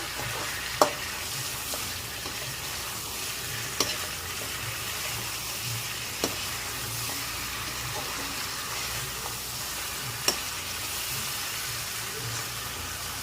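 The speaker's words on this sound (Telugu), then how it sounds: "తిప్పుతూ ఉండండి అలాగా, లేదంటే మాడొస్తుంది. ఫ్రై కదండి, నాన్ స్టిక్ అయితే అంతగా మాడదు." Chicken fries and is stirred in a non-stick pan, a steady close sizzle with soft scraping strokes and occasional sharp ticks of a spoon against the pan.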